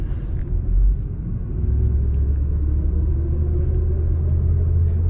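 A 1975 Oldsmobile Cutlass S drives along the road, giving a steady, continuous low engine and road rumble from start to finish, with no talking.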